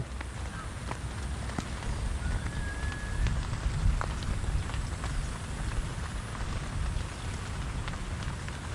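Steady rain pattering on a surface, with scattered louder drips and a low background rumble throughout.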